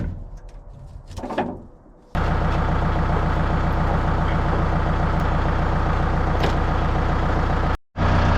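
A tractor pushes a 2011 Chevrolet Silverado pickup up a driveway with its bucket: a loud, close diesel engine starts abruptly and runs steadily with a rhythmic throb, then cuts off briefly near the end, after a few quieter knocks and rustles.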